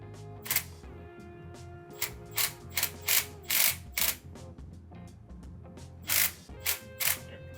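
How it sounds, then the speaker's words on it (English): A hand ratchet clicks in short bursts while backing off an 11 mm brake banjo bolt on a GMT800 Silverado truck, close-up and crisp with brief pauses between strokes. "the banjo bolt's an 11 mil, and you're just gonna back it off."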